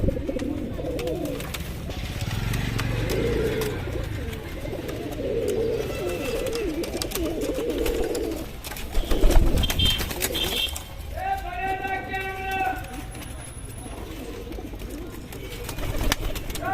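Rampuri Punjabi pigeons, red and black-headed birds, coo softly in a loft while someone talks over them, with a few rustles and wing sounds nearby.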